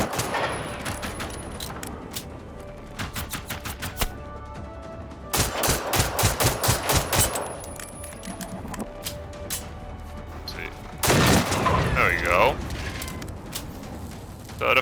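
Automatic gunfire in the shooter game Generation Zero aimed at a robotic machine, bursts of rapid rattling shots in several volleys, loud and close, with someone talking over parts of it.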